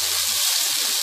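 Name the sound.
tomato added to fried onions sizzling in pan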